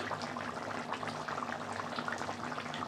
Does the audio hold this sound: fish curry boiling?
yes